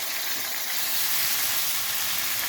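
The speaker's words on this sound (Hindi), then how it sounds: "जितनी ये सब्जियां फ्राई हो रही हैं" Vegetables frying in a pan for chicken macaroni, a steady close hiss and sizzle that holds evenly throughout with no talking.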